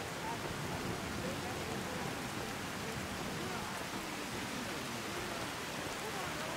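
Steady, dense rain hisses without a break in the video game Ultimate Skyrim, a broad even wash of falling water with no distinct drops standing out.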